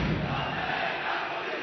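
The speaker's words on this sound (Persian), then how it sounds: "تماشاگران یک پارچه یاسر حیدرقلی کاشتگیر تیمشون رو مورد تشویق قرار میدن" Spectators at an Iranian freestyle wrestling league match between Samen Sabzevar and Steel Azin cheer as one for their home wrestler, a steady, loud crowd roar filling the arena.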